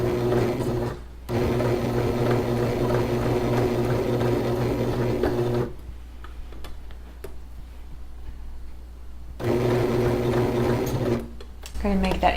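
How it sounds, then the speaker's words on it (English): A household sewing machine stitches a wide zigzag along a costume neckline in two long, steady, humming runs, separated by a quiet pause with light ticks, then starts up again; no voices. "I have a wide zigzag, got a narrow stitch, and I'm going to stitch zigzag along my new neckline."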